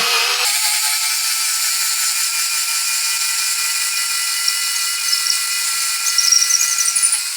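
A Parkside 4V cordless screwdriver's high, steady whirring motor runs continuously, close and loud, with a brief lower start and slight pitch wobble near the end as a screw backs out.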